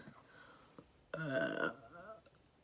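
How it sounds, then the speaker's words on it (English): A single close burp from a person, lasting about half a second amid quiet room tone, with no talk over it. "I burp a lot, and it's probably really gross"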